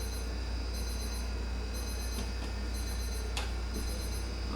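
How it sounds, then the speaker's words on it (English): A lab timer sounds in repeated electronic beep bursts, about one per second, with a steady ticking texture, fairly close over a constant low hum and no talk. "Okay, there's our timer."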